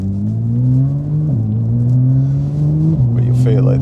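A Porsche 992 GT3 engine pulling hard from inside the cabin, loud tonal revs climbing steadily then dropping sharply at two gear changes, with a brief voice near the end.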